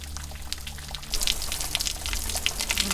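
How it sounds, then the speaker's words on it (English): Water trickles and drips from mossy rocks in a small forest waterfall, a close, steady splashing with a low rumbling hum underneath. "This water is just coming right out of the rocks."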